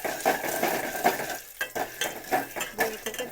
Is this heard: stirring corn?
yes